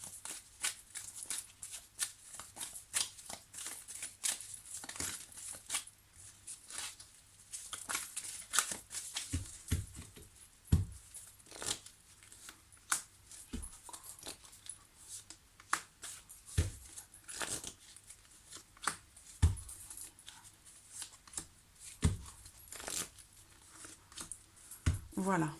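Tarot cards are shuffled and handled in a series of soft riffling and slapping bursts, quiet and irregular.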